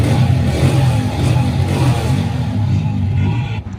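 125cc motorcycle engine running after a carburetor repair, a loud close-up rough idle with a steady chugging clatter that continues throughout.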